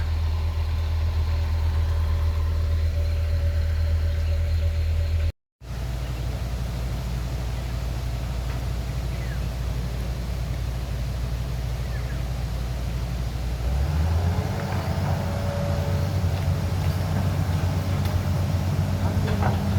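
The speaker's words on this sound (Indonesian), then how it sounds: "Kita masih naik motor." A motorbike engine drones steadily while riding through an extreme mountain valley, with a brief cut in the sound, then the engine note rises and grows louder toward the end.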